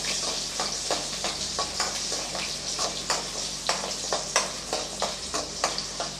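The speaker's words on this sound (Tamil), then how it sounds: "இதில் ஒரு நூற்றம்பது கிராம் அளவு சின்ன வெங்காயம் நல்லா உரித்து கட் பண்ணி வச்சுருக்கேன் அதை சேர்த்துடலாம் நல்லா வதக்கி விட்டுடலாம்" About 150 grams of peeled, cut small onions sauté in hot oil in a pan for an egg curry. A steady close sizzle runs throughout, broken by regular scraping clicks of a spoon stirring.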